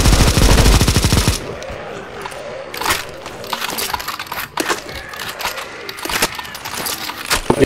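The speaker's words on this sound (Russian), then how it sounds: "вот сейчас бизоны стреляют" Bizon submachine guns fire in CS:GO Zombie Escape, opening with a loud dense burst of rapid shots, then scattered single shots and short bursts with clicks and impacts at a lower level.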